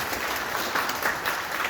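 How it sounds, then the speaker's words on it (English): An audience at a community development meeting in Manchester, Georgia gives sustained applause, a dense, even wash of many hands clapping together at moderate loudness. "let's give them a round of applause."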